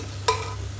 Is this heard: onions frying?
yes